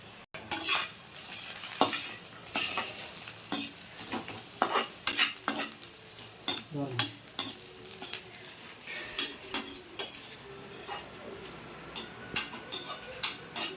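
Onions, green chillies, capsicum and mixed vegetables are stir-fried for chicken fried rice, with a steady sizzle under repeated scraping and clanking of a metal spoon against the pan. It is close and continuous, with no talk.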